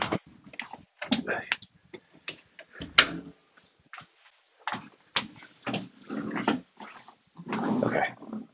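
Pet dogs growling and scuffling playfully indoors, with bursts of rough snarls and thumps, a loud knock near the middle, and a person talking between the noises.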